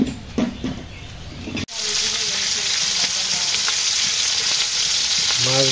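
Fish frying in a pan, a strong continuous sizzle with crackling that starts abruptly after a short stretch of quieter kitchen sounds, close and loud.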